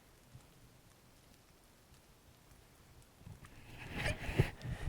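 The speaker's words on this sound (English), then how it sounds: "water land on these leaves." Water condensed from cloud drips off forest branches onto leaves after overnight rain, a soft scattered patter that stays faint, then grows denser and louder toward the end with some low rustling.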